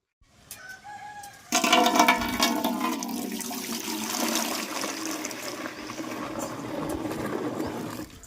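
Water pours and splashes as roughly ten litres are added to dilute a fermented plant liquid for rose plants, starting abruptly after a brief quiet stretch with birdsong and continuing loud and steady to the end.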